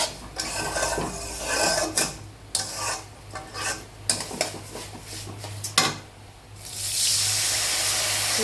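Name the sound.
water being added to a cooking pot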